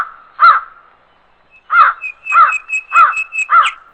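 A cartoon crow caws in short, harsh bursts, one call followed by a pause and then four more in quick succession, loud and close against a high, steady whistling tone.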